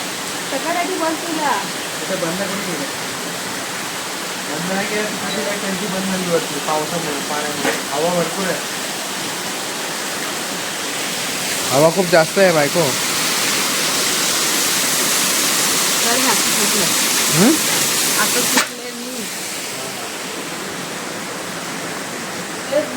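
Heavy rain pours down at night onto a balcony in a dense, steady roar, close and loud throughout, while people talk over it intermittently.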